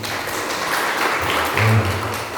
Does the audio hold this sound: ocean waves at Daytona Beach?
no